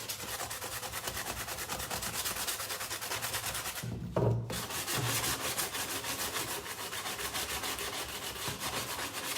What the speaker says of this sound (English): this is an easy way of holding your sandpaper and just sand